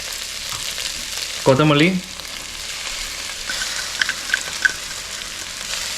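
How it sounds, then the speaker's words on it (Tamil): Ingredients stirred and sautéed in a frying pan for roadside-style parotta salna, with a steady sizzle running throughout and a brief louder burst partway through; a voice speaks briefly. "இதையும் போட்டு நல்லா கிண்டிடுங்க."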